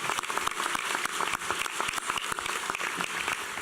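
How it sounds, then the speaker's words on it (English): Graduates and guests at a school commencement ceremony applaud the parents, many hands clapping in a sustained, moderately distant wash of sound with crisp individual claps standing out. "How about a round of applause for the parents?"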